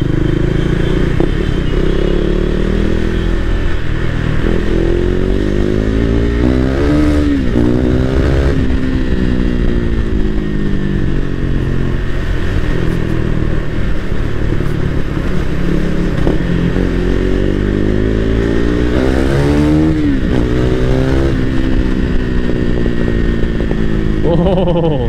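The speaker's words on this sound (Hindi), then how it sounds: "एग्जॉस्ट का साउंड कैसा लग रहा है कमेंट्स में जरूर बताओ।" A loud KTM RC 390 motorcycle exhaust, close by, revs repeatedly in a continuous, throaty drone with rising and falling pitch sweeps across the whole stretch, and no talking.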